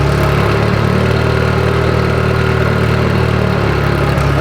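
A Mustang with a 2.4L Evo engine runs on a dyno at a wheel pull, making a loud, steady engine drone that holds a constant pitch throughout, close and with no talking.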